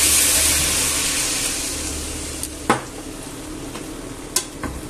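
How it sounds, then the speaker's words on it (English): White wine hits a hot pan and sizzles loudly, fading into a steady hiss as the mixture is stirred, with a few sharp clinks of a utensil against the pan. "I'm going to add a glass of wine, white wine. So I'll just chuck that all in there."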